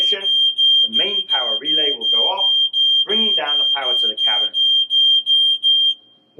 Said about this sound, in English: In the event of a fire, the smoke alarm will sound